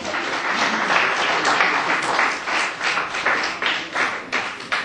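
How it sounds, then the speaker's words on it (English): Audience at an a cappella vocalist's performance applauding to welcome her to the stage, loud dense clapping close by that thins into scattered, uneven claps toward the end. "Clap it up and put your hands together once again."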